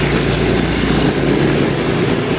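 A motorcycle engine idles in a steady, close, loud drone at the start of a road trip, with no talk.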